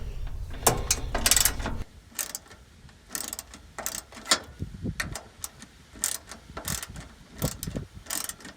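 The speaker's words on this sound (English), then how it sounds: "This is a 1/4 inch socket and a very small 1/4 inch drive." A small 1/4 inch drive socket ratchet turns out screws on the access panel of an outdoor air conditioner unit, giving close, crisp clicking bursts in irregular spurts with brief pauses between turns.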